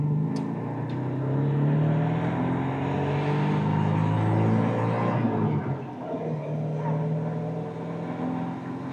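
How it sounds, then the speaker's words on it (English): A 1977 MGB sports car pulls away in first gear: a close, steady engine drone with a low rumble that holds for several seconds, then eases briefly as revs drop before picking up again. "My foot's on the clutch, I'm in first gear, and off we go."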